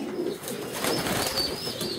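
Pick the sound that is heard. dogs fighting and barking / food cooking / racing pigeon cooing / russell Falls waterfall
racing pigeon cooing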